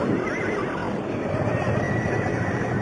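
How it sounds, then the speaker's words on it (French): Horses whinny and neigh over a dense, continuous stable din, with faint hoof clatter mixed into the steady noise for the full stretch. "Voici vos chevaux, colonel."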